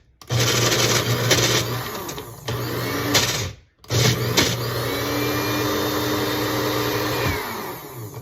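Bullet blender pulsing Caesar dressing with roasted garlic oil: loud whirring motor bursts, several pulses separated by brief pauses, one near-silent gap before a longer final run.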